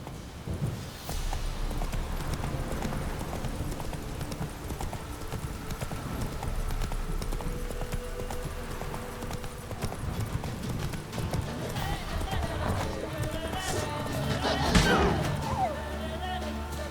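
Roach the horse gallops in The Witcher III, hooves clip-clopping steadily and loudly throughout, with an occasional whinny and game sounds layered over a constant low rumble.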